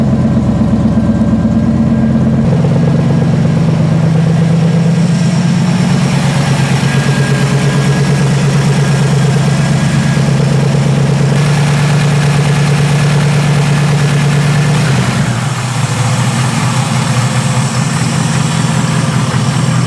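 A car engine idles steadily and loudly with a low, even rumble and a slight vibration throughout, and there is no speech.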